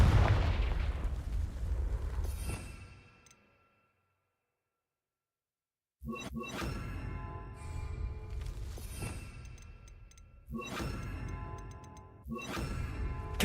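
Confringo blasting-spell explosions in Hogwarts Legacy: a loud, decaying blast, a few seconds of silence, then a string of sharp, close booming bursts with crackling tails in irregular succession.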